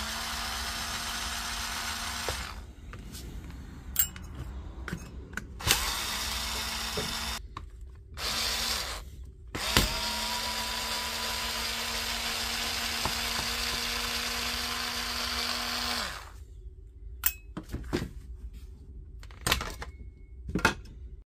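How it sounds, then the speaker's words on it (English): A power driver backs T10 screws out of a DeWalt power tool casing, several whirring bursts of a few seconds each, separated by short pauses, with sharp clicks and handling noise between them; near and fairly loud, no talking. "in order to carry out this task, we've got to get all the screws out first"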